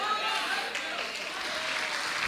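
Audience applause fills a church conference hall, a steady, fairly soft wash of clapping from a crowd that carries on without a break.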